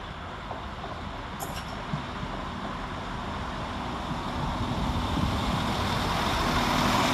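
Northern unit 195126 departing Halifax railway station on a Leeds to Chester service: a steady rumbling engine and wheel noise that slowly grows louder over several seconds, with no talk.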